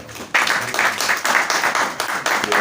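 An audience at a mushaira poetry gathering in Lahore claps together in a sustained burst of applause, loud and close, with faint voices mixed in.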